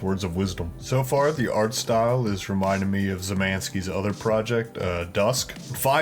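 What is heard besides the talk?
None of the usual background noises is heard.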